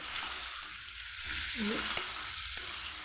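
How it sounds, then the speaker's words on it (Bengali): New potatoes frying in a pan over low to medium flame with a pinch of salt, a dense continuous sizzle and crackle, close and even, with a few faint clicks of a utensil. "লো টু মিডিয়াম করেই আমি আলুটাকে ভেজে সেদ্ধ করে নেব"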